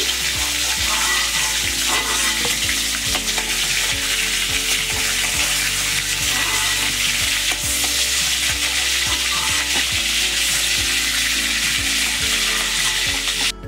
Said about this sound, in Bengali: এইভাবে আমি এই মাছগুলো ভেজে নেব।